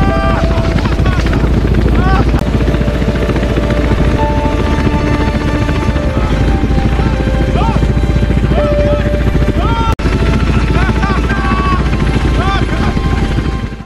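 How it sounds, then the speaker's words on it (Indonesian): A rescue helicopter arrives with a loud, continuous rotor and engine drone that holds steady throughout, mixed with other film sounds. "tak lama kemudian, helikopter bantuan pun datang"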